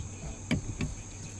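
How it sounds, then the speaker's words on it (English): Faint crickets or other insects chirp in the background with a steady high trill and two brief louder chirps. "Bugs."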